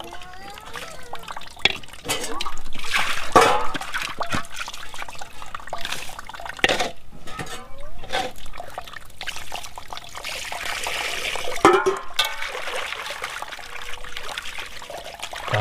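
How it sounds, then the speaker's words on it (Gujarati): Water trickles, splashes and pours intermittently as leafy greens and a cooking pot are washed in a village kitchen, with soft clinks and sloshing under occasional nearby talk. "ભાજી હરખી ધો."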